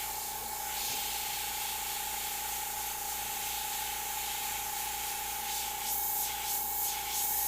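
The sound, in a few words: airbrush spraying paint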